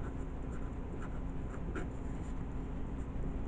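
A Sharpie marker that is wearing out scratches across a birthday card in steady, close strokes, soft and dry against a constant low room hum, with no talk.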